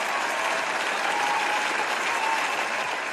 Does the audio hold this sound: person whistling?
no